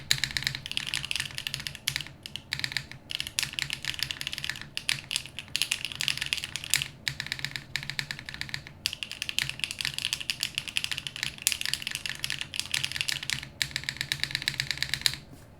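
Steady typing on a GLO Classic TKL keyboard fitted with Sunset Gleam switches, a close, quiet run of rapid clicky keystrokes with a few brief pauses and no voices.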